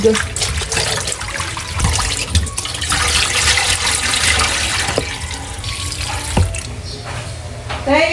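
Running water splashes and trickles steadily as sweet potato leaves are swished and rinsed, with occasional louder knocks and sloshes.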